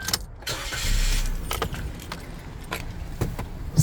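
A pair of keys for a 2020 Suzuki Jimny GLX jingle and clink in the hand, with several short metallic rattles spread across a few seconds, close and fairly clear against a quiet outdoor background.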